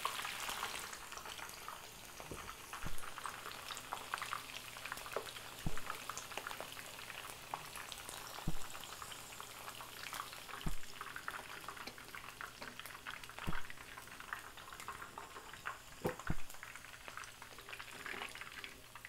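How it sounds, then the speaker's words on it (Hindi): Food frying in oil in a home kitchen, a soft, continuous sizzle with scattered small pops and crackles. It stays low and steady throughout, with no voices. "जब फ्राई करें तो इसको टर्न करते रहें।"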